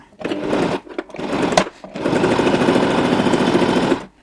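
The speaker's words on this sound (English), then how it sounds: "Make sure to do your back stitching at the start and the end of the sewing" An electric sewing machine stitches fabric for a pen holder in short close bursts of rapid whirring, two quick back-stitch runs at the start, then a longer continuous run before stopping.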